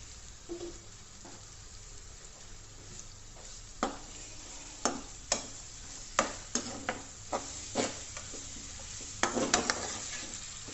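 Sliced onions sautéing in a moderate amount of oil, a steady soft sizzle with a dozen or so sharp spatula scrapes and clicks against the pan, close and clear, no talking.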